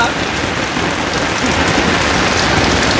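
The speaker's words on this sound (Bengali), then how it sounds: "বৃষ্টি পড়ে টাপুর টুপুর" Heavy monsoon rain falls in a rural village, a dense, steady, loud hiss of drops on surfaces that runs unbroken throughout with no voices.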